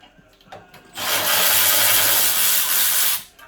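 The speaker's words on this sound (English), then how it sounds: "Let's go ahead and speed ratchet these guys on up and out of here." A speed ratchet with a 1/2 inch converter spins out the brake caliper bolts on a Kia Sportage AWD EX front brake job, producing a loud, steady, rapid rasping whir for about two seconds after a few short clicks.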